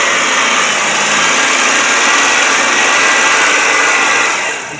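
A car engine revs hard after a throttle body cleaning, a loud continuous high-pitched roar held for several seconds before easing off at the end.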